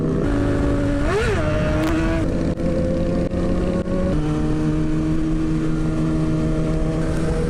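A Suzuki GSX sport motorcycle rides and revs nearby, a loud steady engine drone with a quick rev rise and fall early on, then shifting pitch as it settles into cruising, with no talk.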